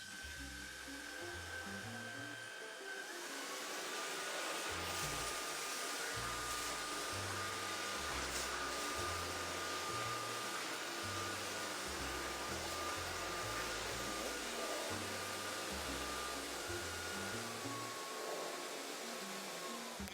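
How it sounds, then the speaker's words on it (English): A small Jimmy PW11 Pro cordless vacuum motor runs loudly and steadily with a high whine and airy rush, shifting pitch slightly partway through. "it turns into a vacuum cleaner. So I go to turn it on in two modes."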